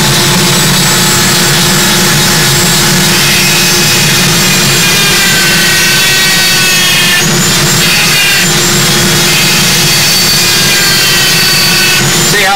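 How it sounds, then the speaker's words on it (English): A cable-driven Dremel with a grindstone tip burns slowly through a part for a Spitfire cockpit interior, giving a loud, steady high-pitched whine and grinding drone that runs continuously and close up. "I use the cable Dremel for this, and just burn your way through"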